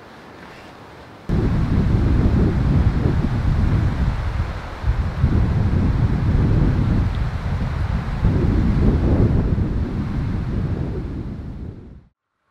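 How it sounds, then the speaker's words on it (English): Strong overnight wind buffets a camping vehicle and its awning room, a loud, continuous roaring rumble with gusting surges that starts abruptly after a quiet opening and runs steadily before cutting off at the end. "the wind picked up something ferocious last night"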